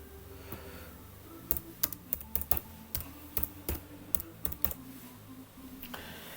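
Close typing on a computer keyboard while coding JavaScript, with irregular clusters of sharp key clicks and brief pauses, nobody talking.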